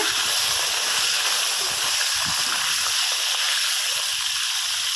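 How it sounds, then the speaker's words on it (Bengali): Large koi fish fry in hot oil with a loud, constant sizzling hiss, close and unbroken for several seconds. "মাছগুলো খুব সুন্দর করে তেলের মধ্যে দিয়ে উল্টে পাল্টে ভাজবই"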